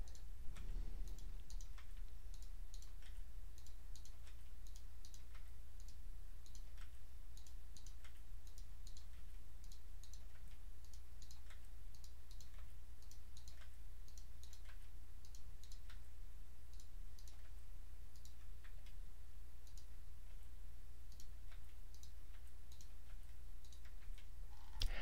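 Computer mouse clicks repeated at an irregular but steady pace, soft and close, over a constant low hum, with no talking.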